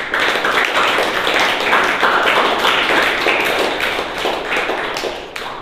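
A room of schoolchildren applauds themselves at a school event, with loud, dense, close clapping that holds steady for several seconds before thinning slightly at the end.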